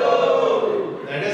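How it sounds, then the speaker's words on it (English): A live audience of married people at a talk cheers and shouts together, a loud sustained crowd roar that fades slightly before swelling again near the end. "Okay, married people, give me a cheer."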